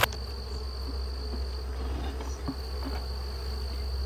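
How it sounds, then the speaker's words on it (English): Honey bees in a nuc hive in a bee yard, a steady close buzzing hum with a few louder individual bees passing near, continuous throughout with no talking. "I can see there's thousands of bees up here."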